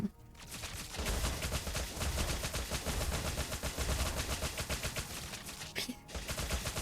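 Kimmy's gun fires in Mobile Legends: a dense, continuous stream of rapid shots with game effects layered over it, briefly pausing near the end before the firing resumes.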